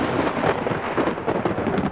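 A thunderstorm sound effect for a radio drama, with a steady rush of rain and low rumbling thunder, loud and continuous.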